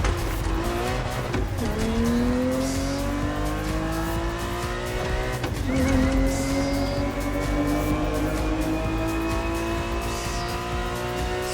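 A Ferrari 365 GTB4 racing in The Crew Motorfest, its engine holding a loud sustained drone that climbs steadily through the gears, with brief dips at shifts and occasional tire squeal, close and continuous with no talk.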